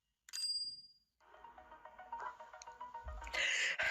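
A bright notification bell dings once near the start, followed by a pause and then a busy layered electronic sound effect that builds and grows louder toward the end.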